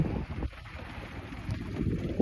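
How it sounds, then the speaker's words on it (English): Cool wind gusts across a lake in Utah during a day of trolling from a boat, a steady low rumble of microphone buffeting with occasional louder bursts, no talking. "the wind's a little cool, but it's not cold"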